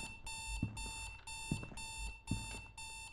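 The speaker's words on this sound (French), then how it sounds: "You need to access the panel to turn off the alarm." Video game alarm in a haunted house with cameras, a repeating electronic ringing beep in regular bursts about every three quarters of a second, fairly quiet, with faint thuds between.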